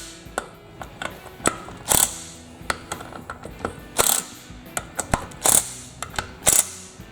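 A hand ratchet clicks in quick uneven bursts while bolts are torqued down in a pattern on the cover of a Briggs racing engine, crisp metallic pawl ticks close up with brief pauses between strokes and no talking.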